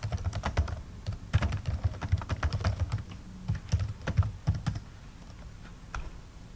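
Java code being typed on a computer keyboard gives close, quick irregular clicks in bursts, with short pauses between runs of keystrokes and the clicks thinning out toward the end.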